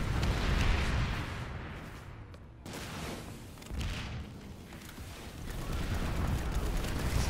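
A frag grenade detonates in PlanetSide 2 amid continuous, loud battlefield rumble, with the blast energy spread through the clip and a brief dip before the noise swells again; no one speaks.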